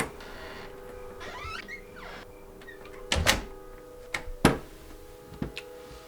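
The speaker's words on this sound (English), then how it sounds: "shut the door." A door shut indoors, heard as a couple of sharp knocks and clicks over a low steady hum, with a few smaller taps following; no talking.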